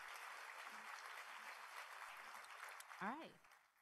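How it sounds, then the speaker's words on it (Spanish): Conference audience applauds at a plenary session, steady broadband clapping filling most of the stretch at moderate distance, trailing off near the end as a voice briefly starts speaking. "un aplauso, por favor"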